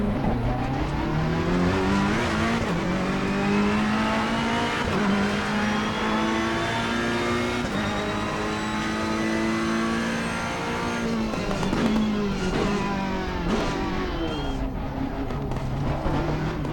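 A race car engine in Assetto Corsa Competizione screams through laps, loud and continuous, rising and falling through gear changes with occasional tire squeal.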